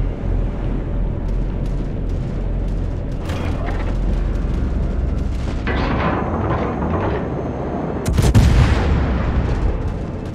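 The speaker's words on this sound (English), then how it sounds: "Concentrate fire on the target." Naval gunfire from the cruiser Atago in a video game booms repeatedly over a dense, rumbling battle din, with a heavier blast near the end; a voice speaks briefly.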